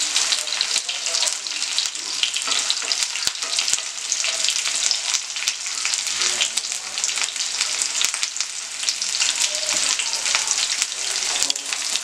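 Tuna fish frying in oil with curry leaves added, a dense, loud, continuous sizzle and crackle with a few sharp pops, close up and with no talking.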